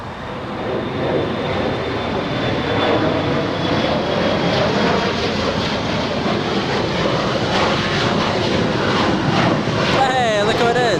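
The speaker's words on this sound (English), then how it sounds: "Lifting off right now. E175, close-up takeoff." An Embraer E175 jet takes off at Los Angeles International Airport, its engines roaring loud and close in a sustained, broad rush that swells slightly as it climbs, with a voice speaking over the noise near the end.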